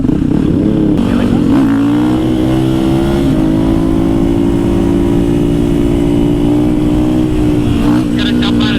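Harley motorcycles riding past, with engines droning loudly and steadily and pitch shifting as they pass, while people talk over them.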